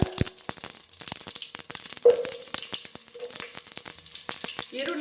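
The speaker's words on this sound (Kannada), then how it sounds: "ಇದಕ್ಕೆ ಇವಾಗ ಈರುಳ್ಳಿ ಕರಿಬೇವು ಹಾಕೊಳ್ಳೋಣ" Onion and curry leaves sizzling as they fry in hot oil for a kohlrabi and pigeon pea sambar, with a sudden burst when they hit the pan, then steady crackling and occasional stirring clatter throughout.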